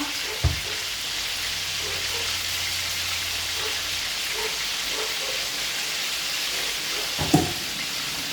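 Pork pieces fry in hot oil with a steady, dense sizzle and crackle throughout, broken by a couple of soft knocks from a utensil against the pan.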